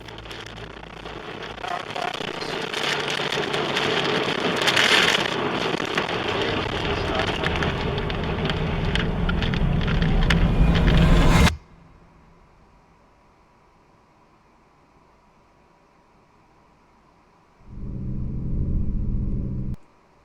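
Heavy rain and low rumble from the El Reno tornado storm roar loudly and continuously, then cut abruptly to near silence before a short burst of dense noise returns near the end.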